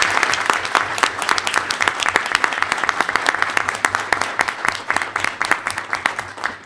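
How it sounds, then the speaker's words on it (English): Audience applause at a university board of trustees meeting honoring law enforcement officers and prosecutors, a dense, steady patter of many hands clapping throughout, fairly close and loud with no talk over it. "So if you could give them a round of applause."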